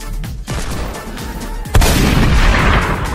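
Gunfire in the Fortnite video game: a few sharp shots, then a loud blast and a dense, rumbling barrage close up.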